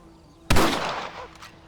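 A single loud rifle shot from the Red Dead Redemption remaster cracks suddenly and then trails off in a long, fading echo, heard alone at close range.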